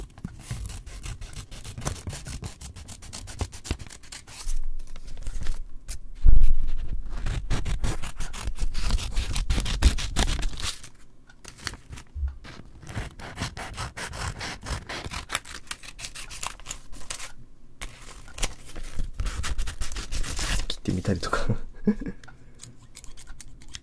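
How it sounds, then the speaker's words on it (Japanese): Scissors cut thick cardboard in a quiet ASMR setting, giving a long run of close, crisp snipping and rasping scrapes with short pauses between strokes. "こういうハサミでね、厚紙を切る音とか好きなんだけど"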